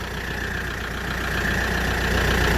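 A Daedong RX570 tractor engine with a starting and charging fault idles steadily and loudly, its even diesel rumble holding constant and growing slightly stronger throughout, with no talking.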